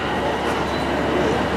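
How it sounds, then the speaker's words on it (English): Train at Bletchley station, a steady low rumble and hum from the rolling stock that stays even and close for the short stretch, with a faint voice murmuring underneath. "The train behind us is what we want, a little brick again."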